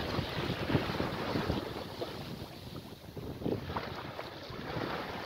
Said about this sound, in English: This wind is still a little fickle.